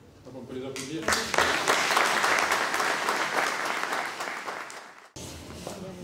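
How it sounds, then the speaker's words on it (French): A crowd at a town mayor's New Year wishes ceremony in Saint André de Seignanx breaks into loud applause that lasts about four seconds, then cuts off abruptly as a voice speaks before and after. "On peut les applaudir."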